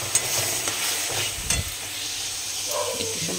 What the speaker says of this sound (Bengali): একটু সময় কষানো হয়েও গেছে, তোমাদের আর দেখানো হয়নি।